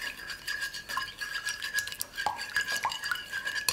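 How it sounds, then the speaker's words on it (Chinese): Eggs, sugar and milk whisked in a bowl, a quick repeated clinking and scraping of utensil against the bowl in an uneven rhythm, close and moderately loud, with no talking. "搅拌均匀。"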